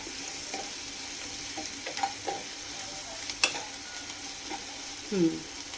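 Sliced onions with a pinch of salt sizzle steadily in a pan, a constant broadband frying hiss with a few light scrapes and stirring clicks of a utensil near the end, no talking.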